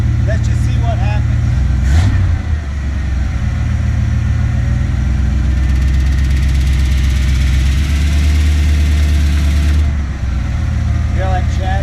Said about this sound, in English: You hear that chattering? Yeah, that's that clutch there.